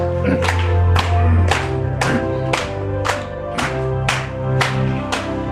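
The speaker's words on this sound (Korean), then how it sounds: "박수 치시면서 한번 부르십시다" Congregation clapping in steady unison along to hymn 205 at a Korean church service, regular loud claps about every half second over organ or band music.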